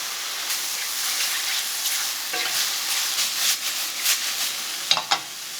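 Garlic added to a hot pan of seared bacon and mushrooms gives a steady, close crackling sizzle, broken near the end by a few sharp stirring clatters.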